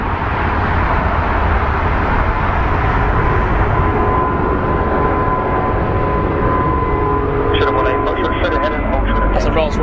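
Jet airliner taking off from runway 09 right at Heathrow Airport, a loud, steady engine roar filling the whole stretch and holding strong to the end.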